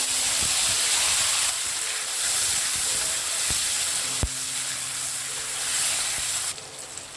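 Tomatoes added to hot oil with cumin, green chillies and curry leaves, giving a loud, steady hiss of frying with faint clicks and taps of a spoon, easing slightly near the end.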